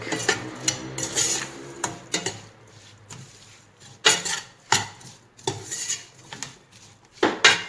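Meat, spices, garlic and other tajine ingredients get mixed in a bowl, giving irregular clacks and scrapes of a utensil against the dish with soft squelching between them, close and fairly loud.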